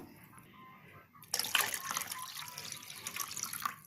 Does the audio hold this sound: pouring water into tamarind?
yes